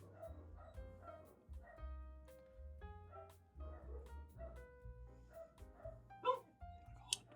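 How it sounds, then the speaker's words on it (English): Dogs bark and yip intermittently in the distance, with some whimpering, in several short bursts under faint background sound. "we had dogs barking, but so they start barking from now"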